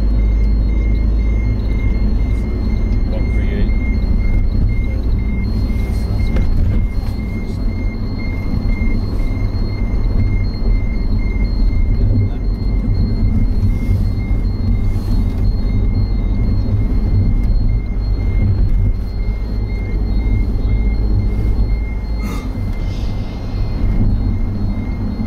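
A bus speeding along the road to Pripyat in the Chernobyl exclusion zone gives a steady, loud low rumble of engine and road noise from inside, continuous throughout with no talk.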